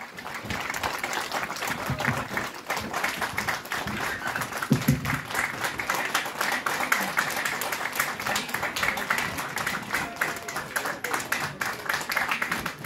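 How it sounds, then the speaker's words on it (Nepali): An audience at an annual youth convention in Rhenock claps steadily, a dense, moderately distant patter of many hands lasting throughout without any speech over it. "please put your hands together once again ladies and gentlemen"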